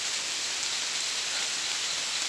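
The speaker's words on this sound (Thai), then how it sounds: "ฝนตกเลยทุกคนแห้งมาโอ้ฝน" Rain falls steadily as a continuous, fairly loud hiss with no distinct drops, unbroken for the whole stretch and with no one speaking.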